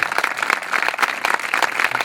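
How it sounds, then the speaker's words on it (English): An audience at a check presentation for a charity field project bursts into dense, continuous applause, many hands clapping loudly and evenly for two seconds. "So big round of applause."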